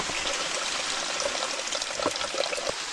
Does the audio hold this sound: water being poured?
yes